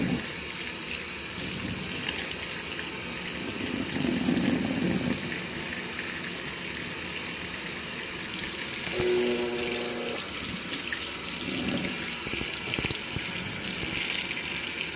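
A GE GTW680BS6JWS top-load washing machine on its delicate cycle sloshes and pulls clothes through water, a continuous churning gush with a brief mechanical hum partway through.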